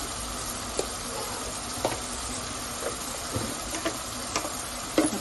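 Chicken liver fries for a dry masala fry, a steady, fairly loud sizzle in a pan with occasional soft stirring knocks and scrapes scattered through it.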